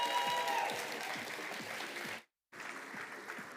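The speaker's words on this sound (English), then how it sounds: "Big round of applause, please." Audience applause at a startup showcase event, a dense steady clapping from a crowd that continues loudly, breaks off into a brief silence, then resumes at similar strength.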